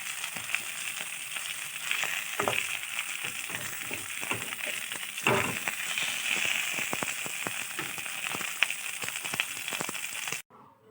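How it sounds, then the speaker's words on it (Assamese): Steady, close crackling sizzle of magur catfish frying in hot oil, with sharper pops scattered throughout, continuing unbroken until an abrupt stop near the end. "এয়া মাছ উতলি আছে"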